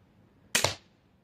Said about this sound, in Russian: Твоя девушка вон как из арбалета стреляет.